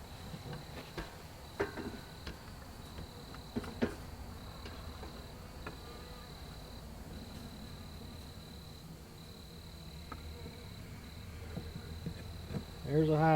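Honey bees in a horizontal hive being lightly smoked during an inspection, a low steady buzz with a thin sustained whine, scattered clicks and knocks from the frames, and a louder rustle near the end.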